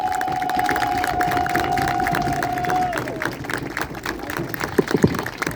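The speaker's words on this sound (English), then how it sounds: "everyone, please give him a round of applause" An audience at a fiftieth-anniversary gathering applauds and cheers for a coach, with a sustained wash of clapping, crowd cheering and chatter that thins out toward the end, broken by a few louder claps.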